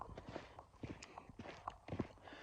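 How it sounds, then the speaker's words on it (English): Horses walk nearby on a dirt road in rural New Mexico, giving soft, irregular hoof thuds and clops at close range over a quiet outdoor background, with no talking. "there's the horses just in front of us here"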